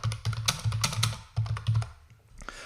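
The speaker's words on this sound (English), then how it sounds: "you can then remove the XXX and type in your message" Quick clusters of crisp clicks come from a computer keyboard as a short text message is typed, with close, uneven bursts separated by brief pauses.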